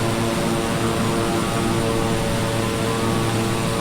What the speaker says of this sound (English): it's a dual engine Beechcraft King Air